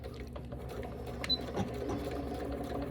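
Sewing machine top stitching fold over elastic on a wrap hem with a long straight stitch, a quiet continuous running hum over about three seconds with faint clicks.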